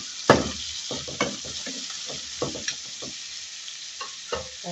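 Pork with black pepper being stirred in a sizzling frying pan, with repeated scraping strokes and soft clatters over a continuous close fry.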